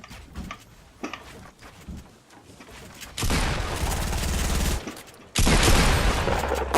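Video game gunfire erupts in two dense, loud bursts after scattered quieter shots and clicks, each burst a rapid sustained fusillade.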